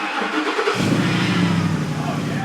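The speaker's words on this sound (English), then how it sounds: "we gotta turn it on, which means first, new exhaust startup" A truck engine with a new aftermarket exhaust cranks and catches, then settles into a loud, steady rumbling idle with a deep exhaust tone.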